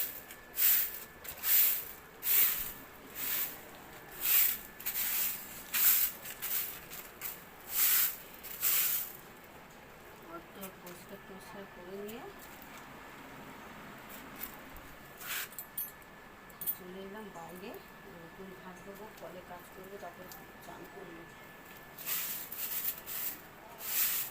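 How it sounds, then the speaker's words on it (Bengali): A broom sweeping a wet courtyard in the middle of the day, a run of close, regular swishing strokes at first, then fainter, scattered brushing later. "বেলা 12টার সময় উঠোন ঝাঁট দিচ্ছি"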